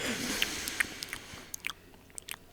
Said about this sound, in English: Have you fixed your chewing from the last episode?